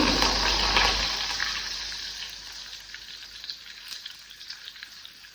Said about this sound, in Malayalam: ഉലുവ ഒന്ന് പൊട്ടി വരുമ്പോൾ നമ്മൾ അതിലേക്ക് കറിവേപ്പില ഇടാം.